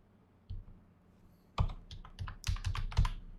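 Keys on a computer keyboard are struck in an uneven burst of close, crisp clicks. One tap comes first, then a quicker run of typing, with no talking.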